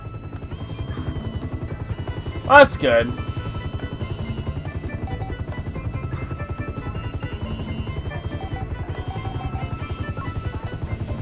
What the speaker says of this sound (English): Okay, I see the chopper.